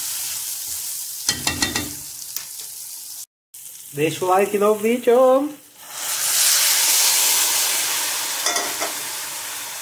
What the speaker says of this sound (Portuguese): Aqui eu dou uma fritadinha aqui agora.